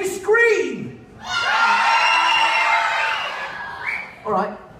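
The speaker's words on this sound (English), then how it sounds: "Can you scream?" A live show crowd at Thorpe Park theme park screams in unison, a long loud high-pitched roar of many voices, preceded and followed by a brief single voice.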